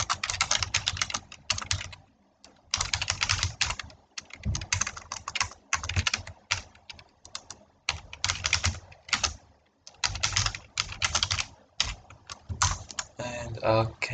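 Fast computer keyboard typing while a database select query is written, dense clattering bursts of keystrokes separated by brief pauses across the whole stretch, close and fairly loud with no talking.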